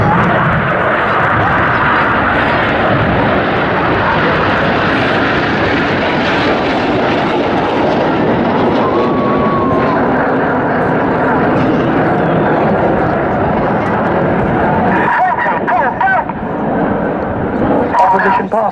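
Red Arrows jets from a former Tucano trainer and Tornado lineage roar through an opposition pass at an RAF Cosford air show, a continuous loud engine rush that swells and fades, with a commentator talking over it.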